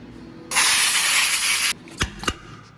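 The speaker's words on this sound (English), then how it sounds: "Okay, so we'll grind a little more." Grinding a metal part while machining a Powerstroke engine component: a single bright, hissing grind burst of about a second, followed by two short sharp clicks, close and loud with no speech.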